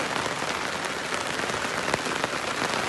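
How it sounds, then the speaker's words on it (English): Heavy rain begins over a farm site where a piggery is being built. It makes a close, dense, steady patter of drops hitting surfaces, with no voices. "it's starting to rain quite heavy, as you can hear, no doubt"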